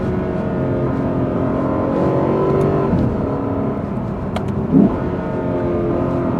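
The 5-litre V8 of a Lexus RC F producing 471 horsepower runs with a deep, steady rumble and rising revs, the engine note swelling and holding loud and close throughout.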